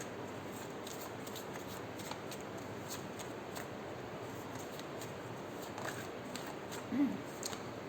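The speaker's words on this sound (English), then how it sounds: "I'm going to pull out a card for whoever needs it" Tarot cards are shuffled and handled close by in soft, rapid papery riffles and flicks, quiet throughout with a slightly louder card snap near the end.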